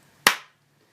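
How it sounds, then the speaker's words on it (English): A single sharp hand clap, close and loud, with a short decaying room echo in an otherwise quiet space, made to sync audio and video. "for editing purposes, I usually do a clap"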